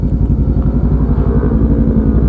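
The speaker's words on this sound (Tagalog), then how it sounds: "Pagka high speed, enjoy the sound of the bike, and then quiet lang tayo." A big motorcycle, either a Venturi 500 or a CB650R, runs at high speed on a night ride, its engine giving a loud, steady, rapid throbbing close by for the whole stretch, with no talk over it.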